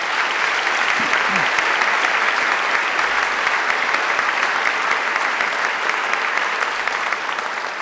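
Sustained, loud applause from a large crowd, a dense even wash of clapping that continues without a break.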